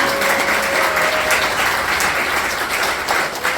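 A seminar audience in Daegu gives a big, sustained round of applause to welcome a speaker to the stage, a loud, even roar of many hands clapping continuously.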